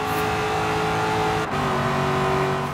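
A car engine in the Forza Horizon 3 racing game drones loud and steady at high revs during a street race at Silver Sands Speedway, with a brief dip partway through as a gear changes.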